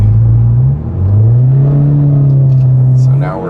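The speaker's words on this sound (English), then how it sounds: "you can definitely hear the exhaust in here, but it's not too drony." Tenth-generation Honda Civic with an Invidia N1 exhaust, heard from inside the cabin as a loud, droning engine tone that dips briefly then climbs steadily in pitch as the revs rise.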